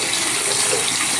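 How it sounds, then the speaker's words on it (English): Warm water runs from a tap onto a shaving brush, a steady close splashing gush that carries on without pause, heard alone. "So let's put a little warm water on that."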